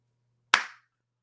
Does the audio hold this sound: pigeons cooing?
no